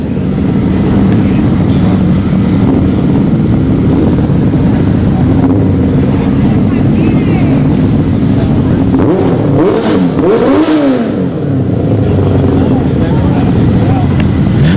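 Kawasaki Katana motorcycle at a Friday night drag race at Orlando Speed World, its engine a steady loud drone with a rising rev sweep near the end, under ongoing crowd and announcer chatter.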